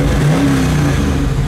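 A 1973 Camaro Z28 engine idling in neutral at about 750 to 800 RPM, a loud, close, steady low rumble with a slight clattery texture and no talking.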